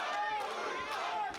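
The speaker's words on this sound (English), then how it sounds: "Listen to this crowd." A large wrestling crowd at a live Limitless Wrestling show cheers and roars in a steady, loud wash of voices with no pause.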